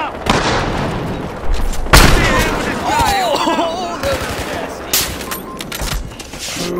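Gunfire and explosive booms in Battlefield Hardline, with loud sharp shots near the start and a few later, mixed with game noise and shouting voices.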